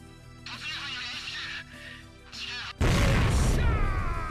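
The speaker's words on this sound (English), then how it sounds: "Why is there an explosion for his yes?" A loud explosion sound effect bursts in from the video game Higurashi When They Cry, a sudden broadband blast that follows quieter tonal game sounds and lingers as a rumbling decay.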